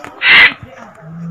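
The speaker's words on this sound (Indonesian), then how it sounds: "Ini adalah jenis burung macau atau dikenal juga dengan burung beo." A loud, harsh squawking call from a hill myna bursts out once, brief and raspy, followed by quieter background sounds.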